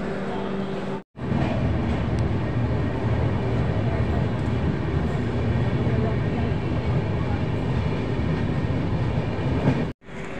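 The 12177 Chambal Express runs on the Howrah to Agra line near Durgapur, a steady loud rumble of wheels on rails with a constant droning hum, briefly cut twice, with speech layered over the travel noise.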